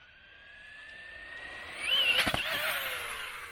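A brushless two-wheel-drive Traxxas Slash RC truck revs up in snow, its electric whine rising steadily and then peaking in a loud, close burst of throttle before holding high.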